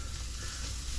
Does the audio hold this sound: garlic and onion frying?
yes